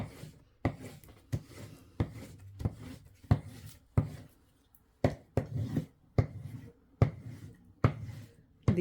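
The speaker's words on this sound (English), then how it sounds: "And just rub that down and make sure it's as flat as I can get it." Quiet, rhythmic rubbing and scraping as a covered junk journal board is smoothed flat by hand, a steady series of short soft strokes close by, with brief pauses between them.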